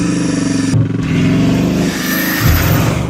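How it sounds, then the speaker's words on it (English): A Bugatti Mistral's W16 engine revs loudly and continuously, rising and falling in pitch as it accelerates, close and dominant with no talking. "you get to fully enjoy the sound of the Mistral's W16 engine."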